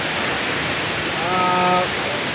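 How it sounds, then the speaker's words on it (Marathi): Water flows steadily near Nani waterfall, a continuous hissing rush close by, with a short voice briefly heard over it midway. "हे वाहणारं पाणी भांडारदारा म्हणजे अतिक्रांतीवीर राघोजी भांगरे जलाशयाला जाते"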